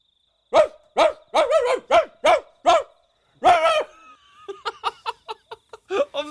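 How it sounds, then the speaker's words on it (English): A dog barks in a quick run of about eight sharp, close barks, then falls quiet before a burst of short laughing sounds follows. "Name this dog."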